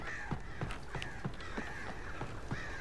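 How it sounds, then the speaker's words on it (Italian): Crows cawing in the Alan Wake video game, a rapid series of harsh repeated caws from several birds, steady and moderately loud over a noisy background, no talk. "Ma quanti uccelli ci sono, porca puttana?"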